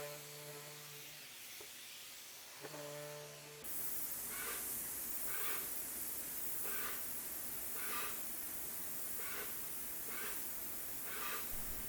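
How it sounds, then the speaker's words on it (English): A continuous hiss of spray painting a second coat on furniture runs steadily after a brief electronic tone, with faint rhythmic pulses as passes are made. "I'm a lot more careful when I spray my second coat."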